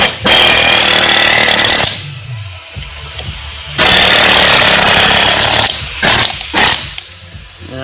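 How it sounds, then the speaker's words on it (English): Pneumatic air hammer pounding on a steel collar, slotted with a grinder, to split it off a shaft in a snowboard warehouse repair shop; loud sustained hammering in bursts with short pauses between them. "We're going to see if we can split it with the air hammer."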